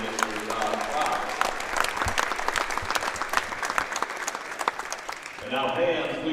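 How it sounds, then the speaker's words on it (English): Applause from the audience at a high school basketball doubleheader fills the gym as steady clapping, with an announcer's voice over a PA before and after it. "So let's have a round of applause for Mr. Michael Lundgren, Mr. Joel Olson"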